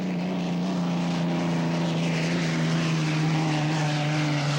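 A powerful turbine racing boat engine drones loudly and steadily at the 1984 Governor's Cup race in Madison, Indiana, a constant whining roar with a strong low hum that holds throughout without pause.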